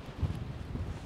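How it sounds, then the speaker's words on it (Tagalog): Strong seaside wind buffets the microphone during a fishing outing at outgoing tide, a steady low rumble with gusty swells throughout, no voices. "Malakas ang hangin."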